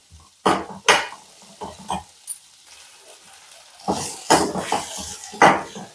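Cauliflower and potato soften in oil in a home cooking pan. The clip is mostly spatula and pot clatter: sharp scrapes and clinks come in bursts, a quiet gap falls in the middle, and a faint sizzle lies underneath.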